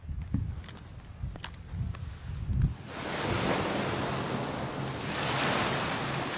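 Ocean surf rolling in with steady wind at Lighthouse Beach in Chatham, a dense continuous roar that swells after a few seconds of softer low rumbling, with no voices.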